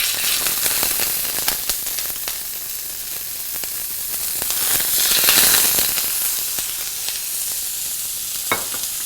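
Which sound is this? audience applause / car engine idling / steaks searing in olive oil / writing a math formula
steaks searing in olive oil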